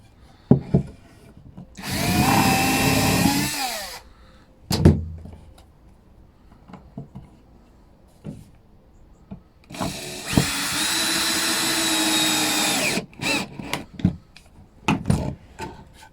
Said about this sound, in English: See, pre-drilling them doesn't split it